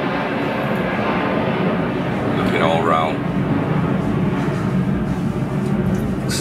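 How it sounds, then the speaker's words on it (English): An airplane flies overhead near an airport, making a loud, steady engine roar that fills the whole clip while someone talks over it. "Excuse the sound of the plane that's just flying off overhead there."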